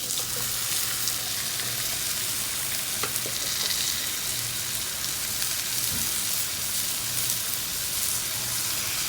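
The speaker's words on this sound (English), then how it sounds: "So we're going to go ahead and put those in the pan." Peeled, deveined shrimp sizzle steadily in a hot pan, a continuous broadband crackle holding an even level throughout with a few faint clicks, no voices over it.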